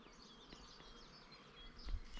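Bees buzz faintly around white cherry blossom on a Portuguese farm, a soft steady insect drone with a slightly louder pass near the end.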